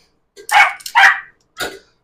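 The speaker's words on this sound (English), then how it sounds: "Ooh, that puppy's loud." A puppy barks loudly three times close by in a home kitchen, two quick sharp barks then a third after a short pause, with no talking over them.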